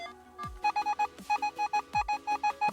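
A metal detector gives short electronic beeping tones repeating in quick pulses, a bright steady pitch, close and clear with faint thuds between.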